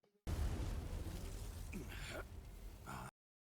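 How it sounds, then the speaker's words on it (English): An explosion in an animated battle video bursts in as a loud, deep rumbling boom that sustains for about three seconds before cutting off abruptly. "we're starting off with an explosion"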